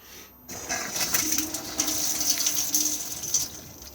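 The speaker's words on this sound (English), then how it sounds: "The water pump needs to be on so we can get water out of the taps." Water runs steadily from a tap in an Auto-Trail Chieftain motorhome, a close hissing splash that starts after a brief click and continues for several seconds without talk.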